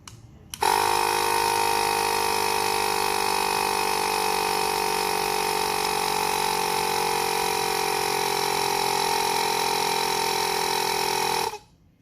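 An electric pump inflates a Trikke inner tube, set to 65, running as a steady, loud motor drone that starts abruptly, holds an even pitch for about eleven seconds, then cuts off.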